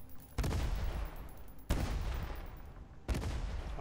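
Three sharp gunshots ring out at even intervals in the video game The Front during an airfield attack. Each is muffled and far off, with a rolling tail, over a steady background rumble.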